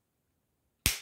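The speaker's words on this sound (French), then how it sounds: "Et après, je coupe avec une pince coupante." Wire cutters snipping through a rod of polymer clay; a single sharp, close snap after near-silence, fading quickly.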